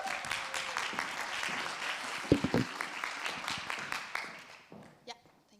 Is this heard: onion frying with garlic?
no